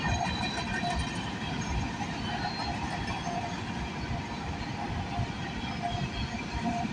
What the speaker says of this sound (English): Thank God we're here just in the nick of time to catch this potash train.